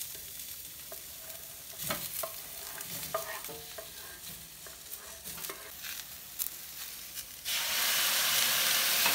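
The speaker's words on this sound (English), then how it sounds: "we just fry up the egg whites and call that eggs" Egg whites fry in a pan, giving a faint, crackling sizzle with scattered pops, then a louder steady hiss in the final seconds.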